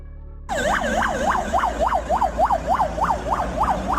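A Russian Gaz Sobol ambulance siren starts suddenly and cycles in a rapid, even yelp of about three pulses per second, loud and near, with no voices.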